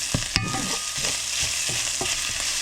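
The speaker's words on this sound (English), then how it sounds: "You want to saute your garlic, you want to saute your ginger." Garlic and ginger sauté in a pan over medium-high heat, a constant close sizzle broken by repeated stirring scrapes and taps, with no voices.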